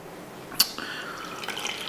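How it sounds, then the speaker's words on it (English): Coffee drips into a Kalita Wave pour-over brewer during a brew of washed Los Cedros Guatemala coffee: a single sharp drip, then a faint trickling liquid sound, close and quiet. "And this is a Kalita Wave brew"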